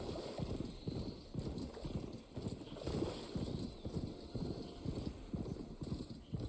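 A horse's hooves clip-clop in a steady, continuous trotting rhythm in the Horizon Forbidden West video game, moderately loud against a windy outdoor background.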